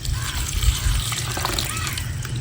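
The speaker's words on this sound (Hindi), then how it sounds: "थोड़ा सा नमक, थोड़ा सा पानी डाल लेंगे।" A little water poured into beef keema mixture with salt, green cardamom and cinnamon, a soft steady trickle and splash heard close over low background rumble.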